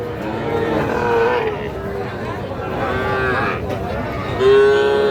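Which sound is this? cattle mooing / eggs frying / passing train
cattle mooing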